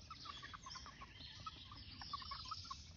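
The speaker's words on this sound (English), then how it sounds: "the chickens love getting in here and eating at the scraps" Chickens cluck and peck around a pallet compost bin full of scraps, a steady scatter of soft clucks at close range over a low outdoor background.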